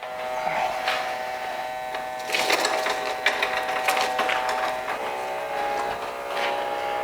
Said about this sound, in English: the sound of the pump has gotten significantly quieter